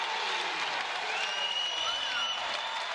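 Crowd noise at a men's college volleyball match against Penn State, a steady, roomy wash of cheering and clapping echoing through the gym with a faint whistle-like tone.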